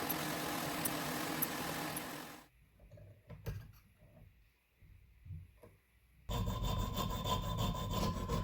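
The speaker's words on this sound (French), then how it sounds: "L'ajustement de la rainure pour le loquet de verrouillage se fait avec une lime diamantée." A diamond file working a locking-latch groove on a handmade axial-lock knife, heard as steady rasping strokes at the start and end with a quieter gap of small scrapes and taps between.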